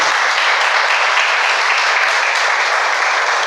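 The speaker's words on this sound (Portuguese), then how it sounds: "Vamos dar para Ele uma salva de palmas," A church congregation applauds during a Portuguese-language sermon, a dense, even wash of clapping that holds steady and loud from start to finish.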